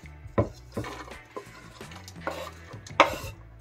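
Chopped onion fries gently in oil in a pan over medium heat. A utensil knocks and scrapes in irregular strokes over a faint, close sizzle, with no speech.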